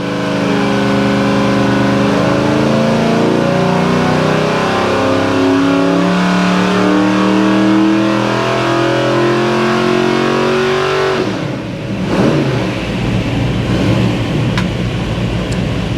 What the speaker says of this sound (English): So we got the motor running. It's all baseline. We're just going to kind of baseline the dyno, baseline everything.